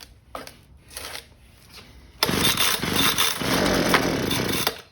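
A 2011 Husqvarna 125B leaf blower, freshly fitted with a new carburetor and tune-up kit and running non-ethanol fuel, gives a few sputtering pulls, then catches and runs with a loud, rough, buzzing two-stroke roar nearby.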